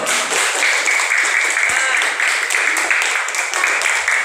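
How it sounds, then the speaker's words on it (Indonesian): A room full of people, likely students, claps in a steady patter after a presentation, fairly close and even throughout, with some voices mixed in. "Oke, tepuk tangan dulu."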